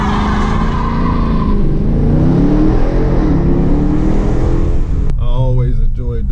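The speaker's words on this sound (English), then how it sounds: "let's see if we can get a quick burnout real quick." A Dodge Charger revs hard during a burnout, its engine holding a loud sustained roar with rising and falling pitch, and a short whining sweep near the end.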